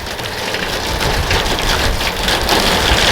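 A garden water hose sprays a steady, loud hiss of water onto surfaces at a rain harvest station, sounding like continuous rain with no talking.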